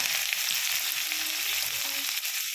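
Sliced onions sauté in a hot pan with popped mustard seeds and dried red chilli, Kerala style, giving a close, steady, dense sizzle that holds evenly throughout, with no talking.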